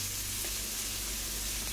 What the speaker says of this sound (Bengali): এই উচ্ছে আলু ভাজা এই বসিয়েছি, উচ্ছে আলু ভাজাটা সবে